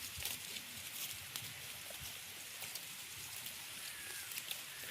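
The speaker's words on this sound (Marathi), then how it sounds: "अचानक पाऊस आलेला आहे" Sudden rain falling outdoors over a freshly sown maize field, a faint steady patter of drops with scattered louder taps, continuous and distant rather than heavy.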